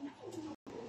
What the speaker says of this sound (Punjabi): ਆਹ ਕਬੂਤਰ ਆ